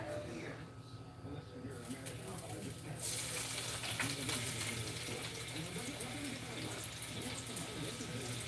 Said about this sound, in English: I'll throw the potatoes in the same oil